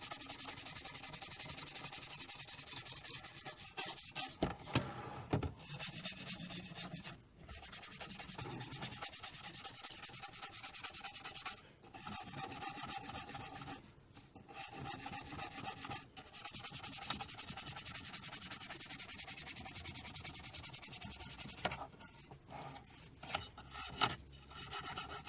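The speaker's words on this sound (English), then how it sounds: "We've got a little bit of rust on the exterior of here, so a little bit of wire wool." Wire wool rubs rust off the exterior of a Commodore Amiga 500 Plus case in a steady, close, scratchy scrubbing that continues for most of the clip, broken by a few brief pauses, with no talking.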